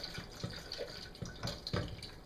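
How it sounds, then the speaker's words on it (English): Hot sauce mixture with small Thai chili peppers poured from a pot into a blender, giving soft liquid splashes and drips in irregular bursts, close and fairly quiet with no talking. "Just pour the stuff all in there."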